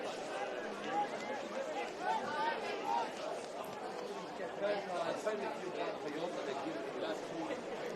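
Murmuring from a football crowd at an Adelaide Blue Eagles versus Cove FC match after a goal makes a low, distant, steady babble of many voices with no single voice standing out.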